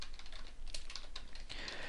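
Typing on a computer keyboard, a quick run of close, crisp key clicks with brief pauses, steady and alone with no talk.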